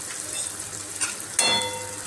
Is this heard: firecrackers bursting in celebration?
no